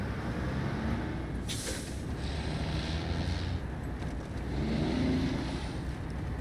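In SnowRunner, a heavy military truck engine, the RNG US-K23 (MTVR MK23), drones steadily and loudly, with a sharp hiss of air brakes partway through and a swell of engine noise near the end.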